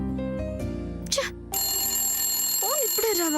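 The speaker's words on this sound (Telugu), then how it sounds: "ఫోన్ ఇప్పుడే రావాలా?" Telephone ringing in a household scene from a Telugu TV serial, a steady electronic ringtone that sounds briefly at the start, then rings loud and continuous while a person speaks over it.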